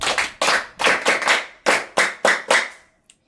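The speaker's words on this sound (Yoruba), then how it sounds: "ẹ pàtẹ́wọ́ fúnra yín" A group at a traditional school applauds itself: seven or eight short, loud bursts of clapping in quick succession, each fading before the next, ending in near silence.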